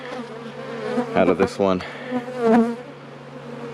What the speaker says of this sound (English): There was some flight when I stirred up the bees.